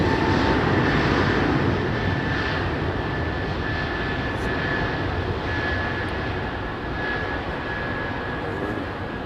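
An airliner departs runway 27R at London Heathrow, its engines giving a steady, loud, broadband roar that holds without a break and eases very slightly toward the end.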